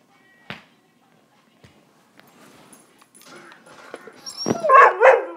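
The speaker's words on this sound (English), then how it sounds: "No barking." A dog gives a few short barks and yips, starting sparse and growing louder and more excited toward the end.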